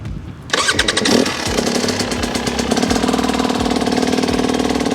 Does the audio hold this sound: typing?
no